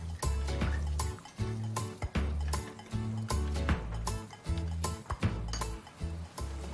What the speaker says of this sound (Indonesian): Kita kocok.